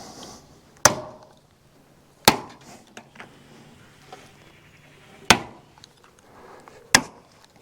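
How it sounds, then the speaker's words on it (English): Pop rivets are set on a storm-damaged metal panel overhang, four sharp loud snaps spaced a second or more apart against a quiet background with faint handling noise. "I'm putting extra pot rivets on the overhang"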